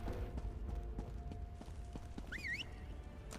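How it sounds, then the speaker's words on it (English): Horse hooves clip-clopping in a video game, a steady rhythmic trot at moderate distance over a dense ambient game background, with a brief whinny-like sound partway through. "So gonna hop on my horse."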